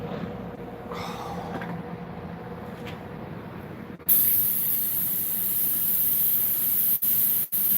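Acrylic paint lightly sprayed from an airbrush onto a large 24x36 lip painting, a steady close hiss that starts soft, then jumps louder and continues evenly with two brief cutoffs near the end.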